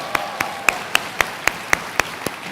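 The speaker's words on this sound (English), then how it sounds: "Can we please applaud Judy Chu?" Slow, isolated claps from someone at a 2024 presidential town hall, about ten sharp, evenly spaced hand claps in a quiet room, each distinct and moderately close.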